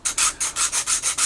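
Sandpaper rubs steadily over wood on a 1/84 scale HMS Victory model kit, a close, even back-and-forth rasp repeating about eight times with no talk.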